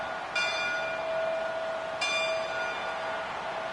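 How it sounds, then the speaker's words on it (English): Gronk rings the bell in the football video game Madden 26 on a clear New England day, two clear metallic bell strikes about a second and a half apart, each ringing out and decaying slowly. "You got Gronk up there ready to ring the bell."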